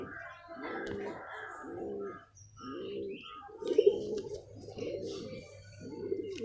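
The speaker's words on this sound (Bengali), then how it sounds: "নর পায়রা" A thin, underweight male pigeon returning home to its loft coos in a steady series of low, rounded calls, about six close phrases with brief gaps, near and clear over a faint background hum.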